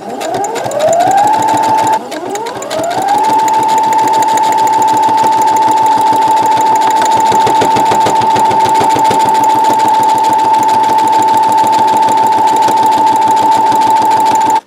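Sewing machine stitching the seams of a fabric knitting bag, its motor revving up to a steady high hum with a fast rhythmic needle clatter, loud and close, with no talking.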